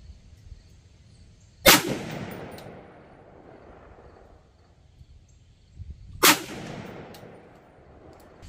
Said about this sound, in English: I took those few shots there just to see where we were